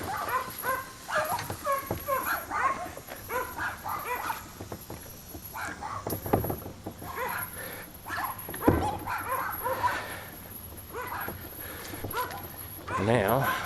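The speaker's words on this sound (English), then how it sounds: "Hello, little dogs. And bigger dogs." Several dogs, small and larger, bark and yip repeatedly at close to middle distance during an urban walk, in irregular bursts under and between ongoing talk.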